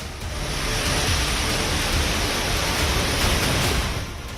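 Heavy rain pours down on waterlogged city roads flooded several feet deep, a dense, steady roar of water that stays loud and unbroken from start to finish with no voices.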